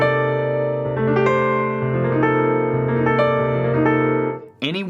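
Jazz piano chord voicings ring out as rich sustained chords, changing every second or so, close and full, before a brief voice cuts in at the end.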